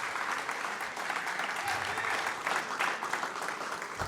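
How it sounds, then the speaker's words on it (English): An audience gives a big round of applause for the football coaches called up to a stage, dense steady clapping with some cheering that carries for the whole stretch, no spoken words over it. "Give it up for these guys. Big round of applause."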